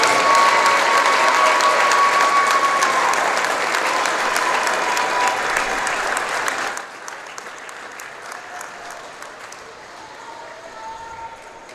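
A high school basketball gym crowd applauds the class of 2025 seniors, loud sustained clapping for about seven seconds that then drops to scattered claps and light murmur.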